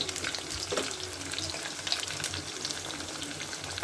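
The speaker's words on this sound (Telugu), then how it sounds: "ఇప్పుడు ఇవంతా చక్కగా ఫ్రై చేసుకుందాం ఒక 1 మినిట్ పాటు" Brinjal and mixed vegetables for sambar sizzle and crackle in a pan at close range, a steady hiss of frying with occasional stirring scrapes and no talking.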